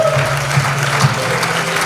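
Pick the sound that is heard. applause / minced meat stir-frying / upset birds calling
applause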